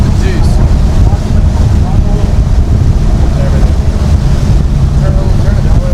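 A 25-foot center console boat with one engine lost runs its remaining motor on open water, a steady loud engine drone blending with wind buffeting and water rush.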